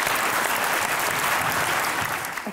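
Studio audience on a comedy talk show breaks into dense, steady clapping that fills the moment, then begins to taper off at the end.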